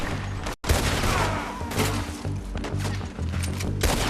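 Gunfire in the Red Dead Redemption 2 video game: a dense, continuous exchange of shots and impacts with a brief drop near the start, loud and close throughout, with no talk.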